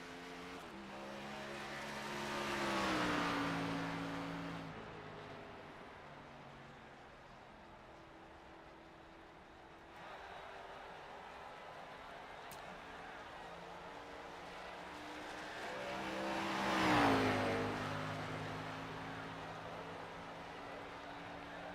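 Race car engines in the iRacing video game at Gateway, Xfinity series, two cars swelling past one after another with rising and falling engine pitch, fairly faint over a steady background drone.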